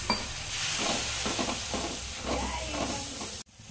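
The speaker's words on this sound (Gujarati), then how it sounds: "અને સાતરી લઈશું 2 મિનિટ માટે" Steady sizzling of pav bhaji masala sautéed with a little water in a pan, with occasional stirring scrapes, continuous and close, cutting off abruptly near the end.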